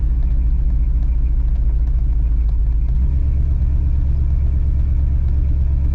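A 1976 Chevrolet Caprice Classic two-door lowrider's engine hums steadily from inside the cabin while driving, a constant loud low rumble that deepens slightly halfway through. Nobody speaks.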